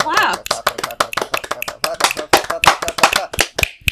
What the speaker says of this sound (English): Clap, clap, clap, clap, clap, clap, clap.